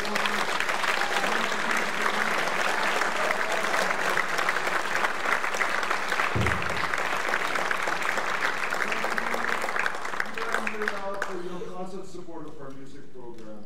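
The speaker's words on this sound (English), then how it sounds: "Please give one more round of applause." Audience at a school instrumental winter concert applauding in a sustained, dense round of clapping for about eleven seconds before it fades away, with a voice speaking as it dies down.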